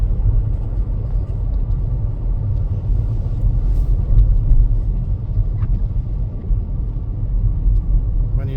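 A car drives through a whiteout blizzard on winter streets in St. Paul, Minnesota, giving a continuous loud low road rumble throughout with no voices.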